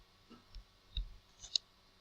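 A few faint, sparse clicks of a computer mouse in a quiet room, spaced irregularly over two seconds with no talk.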